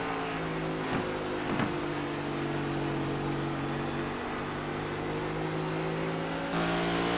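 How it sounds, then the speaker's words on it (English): An iRacing Cup Series stock car plays on the New Hampshire oval in the video game, its engine a steady droning whine with pitch shifts as it downshifts and revs. No talk is heard. "He's getting into the throttle right about the same point, but you hear him downshift."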